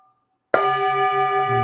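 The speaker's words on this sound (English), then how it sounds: "Inviting the bell." A meditation bell is struck once, a clear resonant strike that blooms suddenly after a brief hush and then rings on steadily with a sustained metallic hum.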